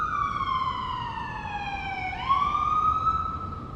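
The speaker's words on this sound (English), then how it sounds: "I think I'll wait for the siren to go by." A Mount Sinai ambulance siren wails steadily, its pitch sliding down as it passes close by, then holding high again, loud over traffic rumble.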